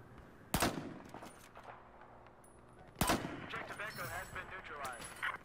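Two loud, sharp sniper rifle shots in a video game, a couple of seconds apart, each followed by a rolling echo, with a voice talking faintly afterward.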